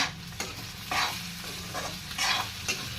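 Fried potatoes turned in a pan with a spatula, four or five distinct scraping sweeps over a low steady sizzle, close and clear, no voices.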